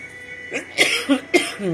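A short run of close, throaty coughs, three or four rough bursts in quick succession.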